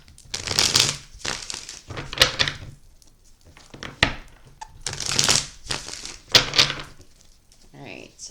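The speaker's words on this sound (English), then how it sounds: "All right, 2 more shuffles." A deck of tarot cards is shuffled close by in several separate bursts of riffling and clattering, with short pauses between them and a voice speaking during the gaps.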